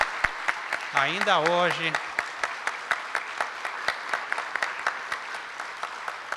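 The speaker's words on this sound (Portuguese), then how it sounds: "eu peço uma salva de palmas a todos os voluntários" An audience claps for volunteers at a Spiritist federation's 86th anniversary event, with sparse, scattered claps in a loose rhythm; a voice speaks briefly over the clapping near the start.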